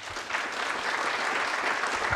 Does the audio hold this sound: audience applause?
yes